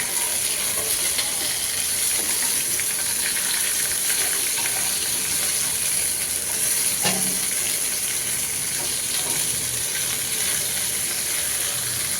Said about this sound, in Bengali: এখন ফ্রাই প্যান বসালাম আরেক চুলায়। মাছ মাথা এগুলো ভেজে নিব,